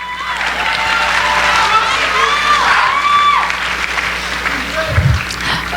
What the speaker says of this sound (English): Let's give them a huge round of applause right now.